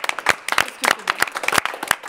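A few people clap for a show's crew, giving distinct, uneven hand claps in short bursts that are close and fairly loud, with little crowd noise behind them.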